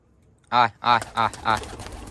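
A pet pigeon coos close by, four distinct throaty hoots in quick succession with brief gaps, the last fading into a soft trailing murmur.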